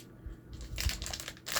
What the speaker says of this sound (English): So it's a paper bag instead of plastic.